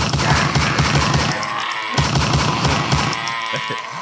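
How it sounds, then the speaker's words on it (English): Rapid bursts of gunfire rattle off in repeated volleys with short gaps between them, loud and dense, layered over a thumping background beat. "Gunshot for that, damn it."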